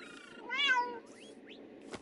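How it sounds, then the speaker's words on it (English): A Siamese cat in Minecraft meows: one clear rising-falling meow in the middle, a few faint short chirps after it, quiet with a soft background. "there's a Siamese kitty!"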